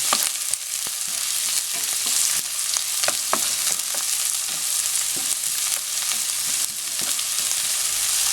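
Onion sizzles steadily in a hot pan for arroz valenciana, a dense crackling hiss with scattered sharp pops and stirring clinks, close and alone.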